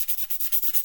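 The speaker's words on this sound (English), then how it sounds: "stop whining about my use of sandpaper" Sandpaper scrubbed back and forth over a cosplay prop, making a rapid, steady rasping rhythm of about eight close strokes in under a second, with no voices.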